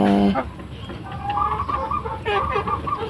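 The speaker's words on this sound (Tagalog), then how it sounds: "Kawawa naman itong manok." A sick chicken that cannot stand clucks and squawks nearby in short, agitated bursts over a steady background hum.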